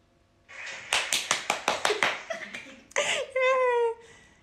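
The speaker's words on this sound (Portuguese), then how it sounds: "Vamos esperar que a produção vai bater as palmas." A studio production crew claps in a quick run of about eight sharp, close hand claps, followed by brief laughter and voices.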